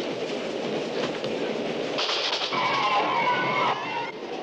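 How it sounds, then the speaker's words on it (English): Moving train rolling along the rails while fleeing toward the Mexican border, a continuous close rumble with rattling wagons and faint clickety-clack, brightening midway with a thin metallic squeal before easing off. "grab that brake wheel. We gotta stop this train."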